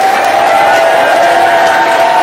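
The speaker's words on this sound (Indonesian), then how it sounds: "Tepuk tangan dulu dong" A seminar audience claps together. The sound is a continuous, loud, dense roar of hands, with a steady pitched hum or voice running through it.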